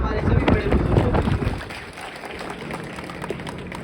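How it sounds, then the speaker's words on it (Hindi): A crowd at an outdoor village gathering in Jalmana, Assandh, Haryana, claps loudly for its elders, with a dense burst that fades after a second or two into murmur and voices. "सबकी ओर से एक बार जोरदार तालियां हमारे सभी बड़े बुजुर्गों को"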